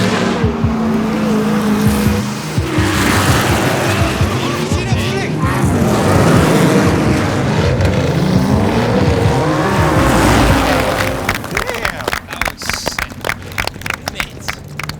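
A race car screams at full throttle around a track, its engine rising and falling through gear changes, with tire squeal and a rapid burbling, popping run near the end; voices talk over it at times.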